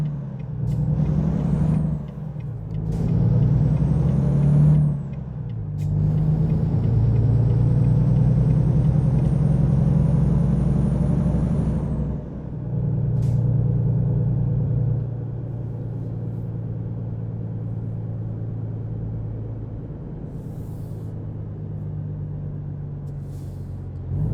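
A heavy truck hauling a very long trailer in American Truck Simulator rumbles as its diesel engine revs up in several rising surges, with hissing air releases between them, before settling into a steady low drone.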